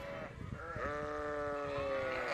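A sheep in a flock being moved between pastures gives a long, wavering bleat that stands out clearly, with fainter animal sounds from the herd behind it.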